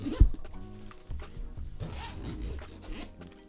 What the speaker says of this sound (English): you can zip it shut like this